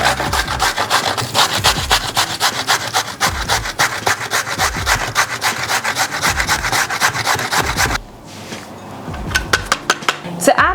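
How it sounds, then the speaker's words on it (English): Peeled carrots are grated by hand on a kitchen grater, giving loud, rhythmic rasping strokes up close that stop near the end, followed by a few light clinks. "And we're going to grate the carrot."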